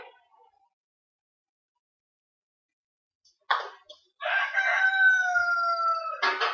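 A rooster crows loudly once, a long drawn-out call ringing close by after a brief sharp knock and a stretch of near silence.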